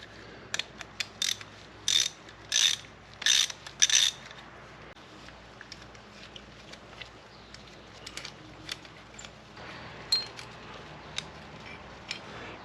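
A ratchet backs out the pad pin on a Harley-Davidson touring front brake caliper, giving a series of crisp, quiet clicking bursts with short pauses between, no talking.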